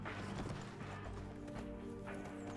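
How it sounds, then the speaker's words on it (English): Footsteps in the survival game Cataclysm: Dark Days Ahead, a steady clopping run of hoof-like steps that keeps going throughout, heard alone with no talking. "Heard footsteps, well, I wonder what that could possibly be."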